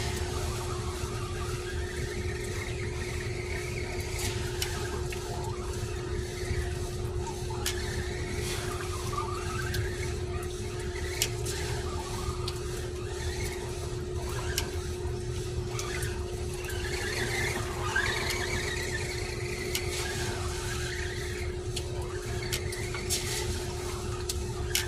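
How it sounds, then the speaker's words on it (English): An Arrma Granite RC truck spins its wheels on wet ground, a constant whining motor buzz with rising and falling squeals as the tires churn, steady throughout. "Ground's too wet for it to wheelie. It just keeps spinning."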